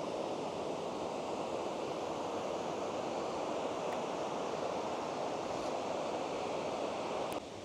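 Water pours over Lumsdale waterfall in the Peak District, giving a constant dense rush that holds evenly throughout, with no voices.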